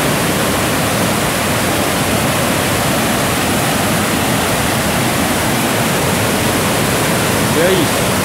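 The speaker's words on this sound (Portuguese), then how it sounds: "uma queda de água bem forte também, ó" Strong waterfall at Cachoeira da Chave in Votorantim, a loud, steady, dense roar of fast rushing water that fills the whole clip without a break.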